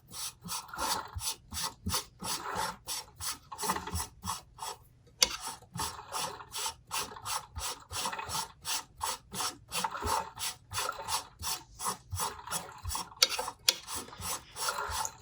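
Thread being wrapped onto a custom fishing rod blank gives rapid, rhythmic rasping ticks in steady repeated bursts, close and fairly quiet, with one brief pause partway and no voices.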